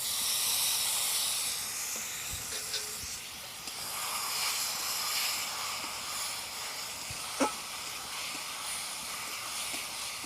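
Chili paste made with Kashmiri red chilies and water hisses and sizzles steadily in a hot kadai for country chicken, a loud, continuous broadband fizz with a brief sharp crackle midway and no talking.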